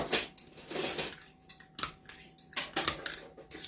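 A spoon stirs beef stew inside a glass canning jar, scraping and clinking against the glass in quick irregular strokes, close up and with no talking.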